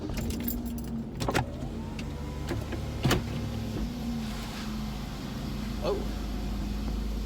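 A car driving along a road under construction, heard from inside as a steady low rumble of engine and tyres with a few short clicks and knocks, and a voice speaking briefly.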